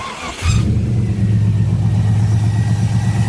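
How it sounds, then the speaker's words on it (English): A Ford Capri V8 engine starts from cold after a short crank, catching abruptly and settling into a loud, deep, steady idle rumble that runs to the end. "Let's fire it up real quick, see what we get."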